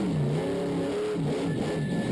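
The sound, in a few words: monster truck engine revving at Monster Jam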